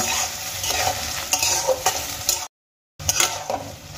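Soaked soybean chunks and potato pieces frying together in a pan for a vegetarian chana dal, a loud steady sizzle broken by stirring scrapes, with a brief dead silence near the end before the frying resumes.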